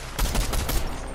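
Video game gunfire in Fortnite: a brief rapid burst of several loud shots in quick succession, close and punchy, lasting about a second.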